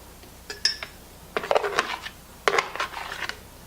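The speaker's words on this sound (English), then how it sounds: "I'll take a spoon them into a 1-quart mason jar" A metal spoon clinks against a 1-quart glass mason jar while kefir grains are scooped in, in three short bursts of bright taps and scrapes with quiet pauses between.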